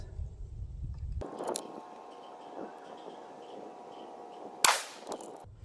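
A rifle fitted with a CVLIFE 6-24x50 scope fires a single loud, sharp crack with a short ringing tail while being zeroed for 200 yards, set against a faint steady outdoor hum.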